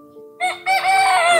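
A rooster crows at a free-range desi chicken farm, one short close call that rises after a faint hum and holds steady to the end.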